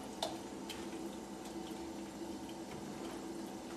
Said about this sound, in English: We're just going to let that simmer there for a little bit